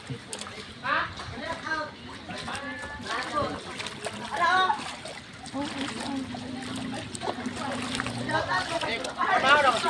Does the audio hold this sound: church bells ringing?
no